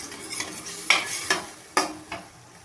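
A spoon scrapes through egg curry with whisked sour yogurt in a pan, several sharp, close stirring strokes over a faint sizzle.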